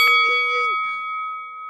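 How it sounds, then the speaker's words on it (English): A bright notification bell dings once, a clear struck tone with a strong, sustained ring that fades slowly over nearly two seconds, alone with no talk over it. "hit that notification bell"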